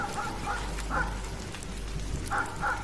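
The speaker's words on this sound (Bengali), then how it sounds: "একসঙ্গে অনেকগুলো কুকুর ডাকছে," Cartoon sound effect of many dogs barking together in the rain at night: several short bursts of barking come in clusters over a steady rainfall hiss, moderately loud and somewhat distant.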